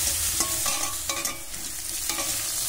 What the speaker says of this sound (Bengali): আলুটাকে সুন্দর করে ভেজে নেব